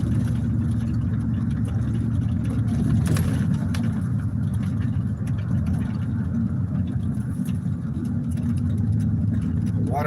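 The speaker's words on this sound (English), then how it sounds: "Water truck with wobbly wheels." Water truck with wobbly wheels heard from a vehicle following it, a steady mid-low engine drone and road rumble, fairly loud and constant with a brief bump partway through.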